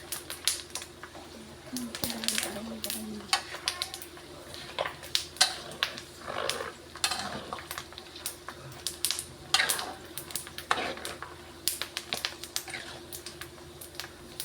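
Pork cracklings frying in oil, with a stream of sharp irregular crackles and spits popping close by over a faint bubbling hiss, no voices.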